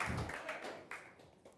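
Scattered, faint claps from a small comedy show audience come in a few sparse bursts with no voices.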